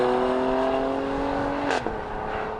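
A 2016 Mercedes-Benz GLE Coupe engine in Sport Plus mode hums with a steady tonal drone, then briefly revs and shifts, heard close up and fairly loud.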